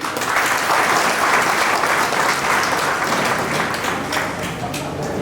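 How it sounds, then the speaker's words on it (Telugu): An audience at a scholarship fund gathering claps in sustained, dense applause. It stays loud throughout and eases off slightly toward the end. "డబ్బులంటే చప్పట్లు కొట్టారు."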